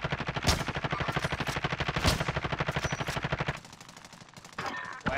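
Rapid automatic gunfire rattles continuously in a Warzone match, loud and close, then drops to a quieter burst before a final sharp shot; a shotgun blast figures in the exchange and no one speaks.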